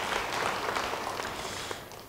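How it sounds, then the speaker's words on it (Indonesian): A church congregation breaks into brief applause, a dense, moderately loud patter of many hands clapping that fades out after about two seconds. "beri tepuk tangan bagi dia"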